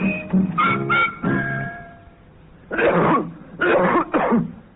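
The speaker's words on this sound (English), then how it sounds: "What a nasty cough." A few harsh, wet coughs in two bursts, a short cluster early on and then three rough hacks after a brief pause, close and loud.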